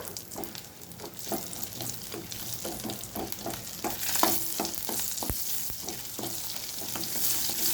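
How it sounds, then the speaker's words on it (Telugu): Tempering seeds frying in oil in a pan for a tomato mint chutney, a steady close crackle and sizzle with small irregular pops, alone without talk. "1½ స్పూన్ తాలింపు గింజలు వేసుకొని మగ్గబెట్టుకోండి"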